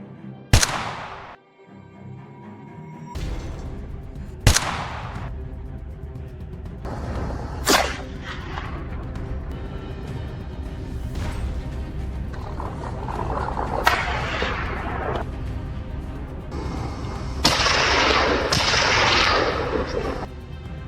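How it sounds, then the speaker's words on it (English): Sharp, loud rifle shots ring out one at a time across a snowy slope during a wild boar hunt, each crack echoing away, with about a dozen spaced over a long stretch. "A gunshot rang out"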